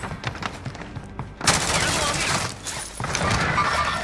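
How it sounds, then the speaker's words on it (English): Video game gunfire in a shooter match, bursts of rapid automatic shots that erupt loudly and continue in dense volleys, with players talking over the firefight. "Taking fire!"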